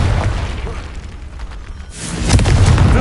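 A Confringo blast spell detonates in Hogwarts Legacy, a loud booming burst that swells near the end over rumbling game ambience.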